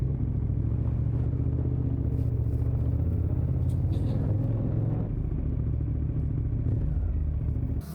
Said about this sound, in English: Nice motorcycle.